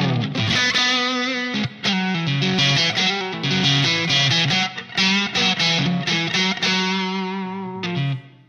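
Electric guitar played through a Line 6 POD HD500 modeling the Brit P-45 bright amp, a Park 75-style tube amp, with a distorted, chorused tone; sustained chords and quick riffs ring out loud and close with brief breaks between phrases.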